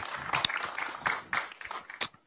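Scattered, thin clapping from a lecture audience, a few sparse bursts of hand claps at irregular intervals, fairly quiet and fading out by the end.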